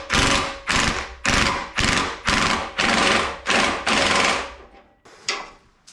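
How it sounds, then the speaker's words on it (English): Impact driver with a 13 mm socket hammering on an exhaust bolt of a 3.4L 991.1 Porsche 911, running at mid power in seven loud, close rattling bursts, each about half a second, followed by one shorter burst. "So let me get an impact driver and we'll see what happens."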